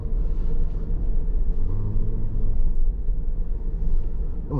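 A Toyota Noah hybrid minivan, new model S-Z, accelerating briefly with a low steady rumble of engine and road noise from inside the cabin, with no talk.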